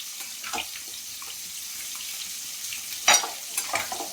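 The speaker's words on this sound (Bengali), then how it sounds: "ওদিকে আমি মাছ ভাজা হচ্ছে" Fish frying in oil in a home kitchen gives a steady, moderate sizzle throughout, with a brief louder crackle or splash near the end and no talking.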